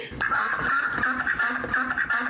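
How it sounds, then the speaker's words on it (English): A sound effect of several ducks quacking, a dense, loud burst of rapid overlapping nasal calls repeating in quick succession for a couple of seconds. "the sound of those rabid ducks tells us that once again it's time for Let's Talk About"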